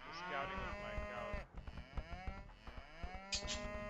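Cattle moo loudly in the Age of Empires 2 video game, a sustained lowing call with a second moo following, heard close over faint background game sound.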